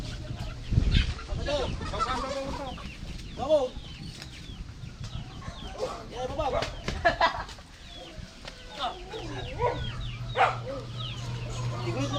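Chickens in a coop on a mini farm, clucking and squawking up close with some wing flapping, while people talk and work nearby.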